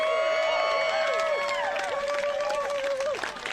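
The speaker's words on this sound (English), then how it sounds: "One more round of applause for these ladies." An outdoor crowd at the Race for the Rail Onewheel race podium at Hollister Hills, California, applauds and cheers the women's podium finishers, with sustained clapping and whoops under a loud voice.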